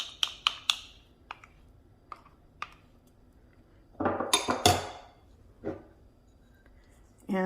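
Sour cream scooped from a container into a bowl for a dip: several sharp utensil clicks and taps against the container, then a thick, wet scraping squish, close by.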